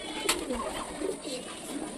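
Pet pigeons, including a black-green one, coo close by in a short run of soft, rolling, throaty calls over low background noise.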